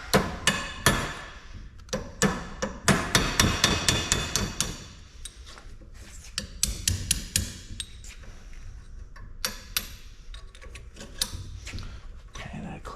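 Sharp, repeated hammer blows on a Jeep axle shaft U-joint clamped in a vise, ringing metallic strikes coming in close loud bursts with short pauses between, some quicker and softer taps toward the end.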